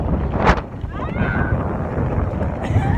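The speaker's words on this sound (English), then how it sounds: "This wind is ridiculous." Strong gusting wind buffets the microphone during a bike ride in Fort Worth, roaring and rumbling loudly and continuously, with a brief voice cry early on.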